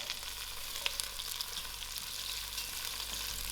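Thyme, curry leaf, slit green chillies and garlic fry in oil for a spicy potato soup, a soft, continuous close sizzle with faint crackles and no voices.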